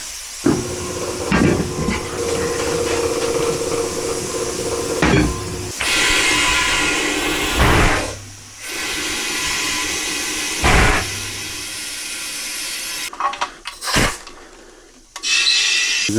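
Air rushing out of a Honda TRX350 Foreman ATV tire valve with the Schrader core removed: loud, steady hissing bursts broken by short gaps and a few clanks, close up, no speech.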